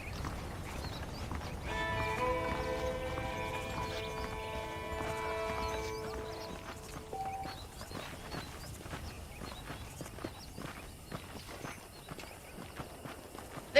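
Horses clip-clop at a walk in the Western video game Red Dead Redemption, steady hoof beats with a brief whinny, while game music swells in the first half and fades, leaving the hooves alone.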